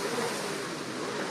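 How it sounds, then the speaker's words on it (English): A racing powerboat at the St. Pete Powerboat Grand Prix runs its throttle hard while the hull slams through waves, making a loud, steady rushing roar of engine and spray, thick with wind-like noise, with no voices over it. "You can really hear that throttle getting as they're driving through those waves"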